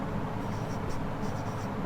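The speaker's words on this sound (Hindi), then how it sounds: "यहाँ लिखते हैं" Writing on a board during an accountancy lesson: a steady, close scratch of marker or chalk strokes runs continuously for a couple of seconds over faint room noise.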